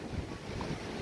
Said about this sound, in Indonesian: Dan hari ini cukup berangin guys. Berangin guys, lumayan kencang anginnya guys.